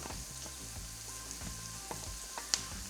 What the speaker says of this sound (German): Wenn die Zwiebel glasig, dann gebe ich die Paprika und die Karotte dazu.